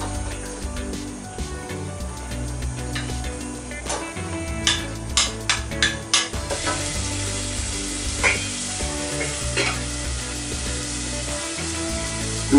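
Onions frying in olive oil on a hob for Portuguese red bean rice, a steady sizzle with a low background hum and a few sharp knocks and scrapes of stirring, close and with no voices.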